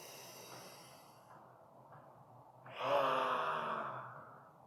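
During a golf warm-up stretch, a person near the microphone breathes out slowly, then takes one deep audible breath that swells and eases off toward the end.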